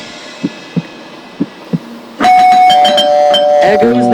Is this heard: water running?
no